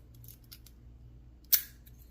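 A Sepox 40 mm aluminum padlock is zipped open with a single sharp metallic snap, loud and close, after a few faint light clicks of picking in a quiet room.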